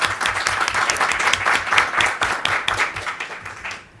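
A university seminar audience gives a lively round of applause for the speakers, dense clapping from many hands throughout, close and steady, tapering off at the end.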